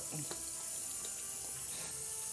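Water running from a tap into a sink for a film-developing rinse, a soft steady flow heard close by with a few small splashes and drips, no voices.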